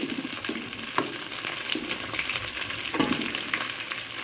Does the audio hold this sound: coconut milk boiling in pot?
yes